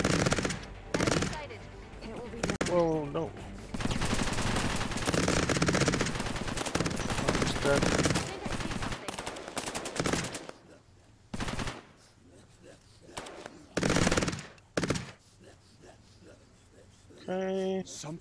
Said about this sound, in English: This turret is doing work.